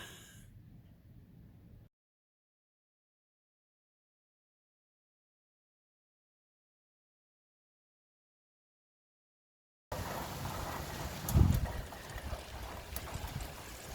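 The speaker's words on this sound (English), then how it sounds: "It's hail." After a long silence, hail falls with an abrupt onset, producing a dense, crackling patter with a brief louder thump partway through.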